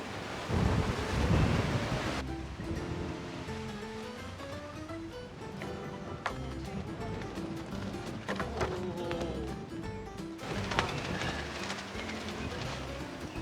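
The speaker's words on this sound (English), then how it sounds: "It's the wind." Gusty wind buffeting and roaring, with a rumbling low rush that swells and eases throughout, occasional clatter underneath, no clear speech.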